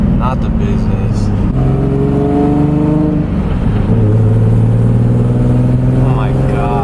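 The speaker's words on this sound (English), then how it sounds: "I have 2 blown gaskets and probably one of the couplers is leaking, I'm sure, so it sounds like shit right now" A Nissan Z with two blown exhaust gaskets and a leaking coupler revs loudly and roughly nearby, its engine tone rising and falling in a harsh, raspy drone, while someone talks over it.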